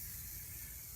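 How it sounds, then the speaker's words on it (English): Hairspray from an aerosol can is misted onto a client's hair during a makeup session, a short, soft, steady hiss with no other sounds. "If you're going to spray a little bit more hairspray"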